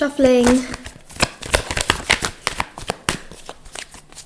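Tarot cards being shuffled in quick riffling bursts, close up, with a soft voice-like tone briefly at the start and clicks between.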